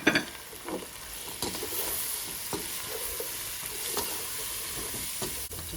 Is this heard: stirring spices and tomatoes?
yes